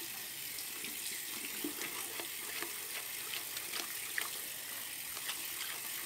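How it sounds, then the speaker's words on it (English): Tap water running steadily into a sink while a shaving bowl and brush are rinsed out, a continuous close splashing hiss with small clinks and sloshes throughout. "I'm gonna rinse out my bowl real quick and my brush"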